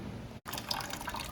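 Water poured into a 2008 Yamaha YZ450F radiator during a flush, a close, steady gurgling trickle after a brief break.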